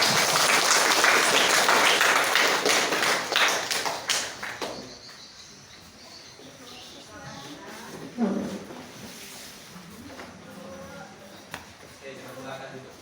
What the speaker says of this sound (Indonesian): Sekali lagi beri tepuk tangan buat mereka.